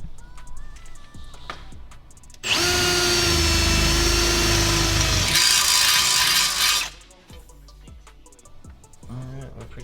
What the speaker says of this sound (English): where I can still get a drill up in here to drill a hole